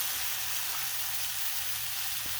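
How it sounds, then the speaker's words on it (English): Thick pork chops sizzle on a Blackstone griddle, a steady, even hiss of frying that stays constant and fairly quiet throughout, with no talking. "Listen to that sizzle."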